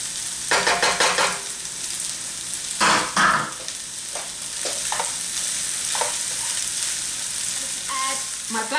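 Quinoa sizzles in a hot pan over a raised flame, with repeated scraping and stirring strokes that come in bursts over a continuous crackle.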